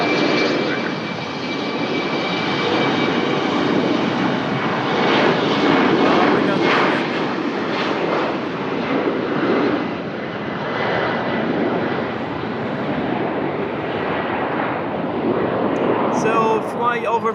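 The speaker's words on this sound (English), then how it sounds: "That's the Airbus A330neo of Iberojet." An Iberojet Airbus A330neo airliner at Lisbon Airport, its engines roaring loud and steady for the whole stretch with a slight swell midway, while people talk faintly underneath.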